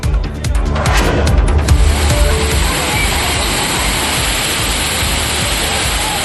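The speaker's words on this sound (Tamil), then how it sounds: "கோடை மழையால் கன்னியாகுமரி மாவட்டத்தில் உள்ள திருப்பரப்பு அருவியில் தண்ணீர் ஆர்ப்பரித்து கொட்டுகிறது" Thirparappu waterfall in Kanniyakumari district pours heavily after summer rain, a loud, steady, close roar of rushing water that fills the whole clip with no pauses.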